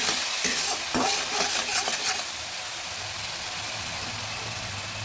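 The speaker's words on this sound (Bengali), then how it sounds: "এবার আর একটু জল দিয়ে দিচ্ছি মশলাটা ভালো করে ভাজার জন্য।" A spice mix for a banana-flower cutlet frying in a pan after a splash of water is added, with a burst of hissing and stirring scrapes early on that settles into a softer, steady sizzle.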